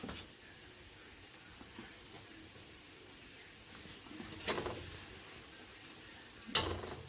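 Puff puff dough frying in hot oil: a faint, steady sizzle, with a couple of brief stirring clatters near the end.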